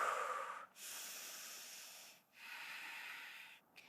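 Deep yoga breathing during a beginner flow, three long, soft, airy breaths in close succession, each a sustained hiss with brief pauses between.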